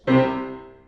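A single piano octave struck once with thumb and pinky at unequal force, the two notes sounding unevenly balanced, ringing out and slowly decaying.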